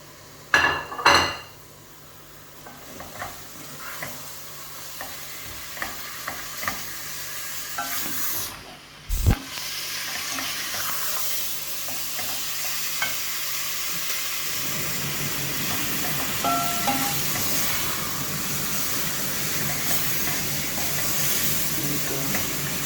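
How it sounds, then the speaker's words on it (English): Minced meat with herbs and spices being stirred in a pan for spaghetti bolognese, a utensil knocking and scraping in the first seconds, then a steady close sizzle of frying that grows fuller and continues throughout. "Just stir it, yes, let the herbs and spices mix in with the meat"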